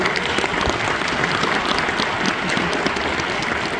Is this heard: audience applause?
yes